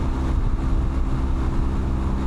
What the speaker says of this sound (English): even cruising here at 70 miles per hour, you hear the engine quite a bit